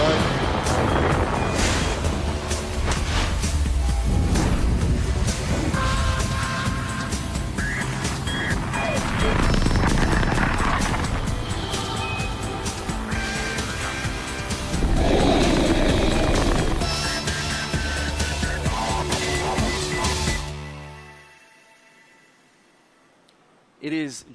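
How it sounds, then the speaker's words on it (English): A SpaceX Falcon 9 launch roars as a continuous, heavy rumble with crackling texture for about twenty seconds, then cuts away to near silence and a brief final burst. "Liftoff of Falcon 9."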